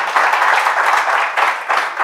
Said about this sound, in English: Yeah, we can applaud them.